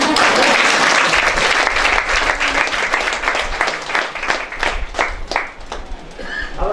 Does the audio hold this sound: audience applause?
yes